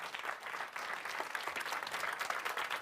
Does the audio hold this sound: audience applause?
yes